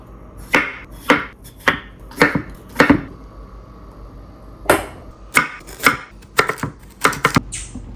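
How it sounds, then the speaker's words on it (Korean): Potatoes for curry are chopped on a board: about a dozen sharp, close knife strikes, in quick bursts of three or four with a short pause between. "카레를 만들어 보겠습니다. 먼저 감자부터"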